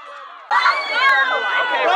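A crowd of fans cheering at a homecoming high school football game, a sudden burst of shouts and whoops after a quieter start, loud and sustained over its full length.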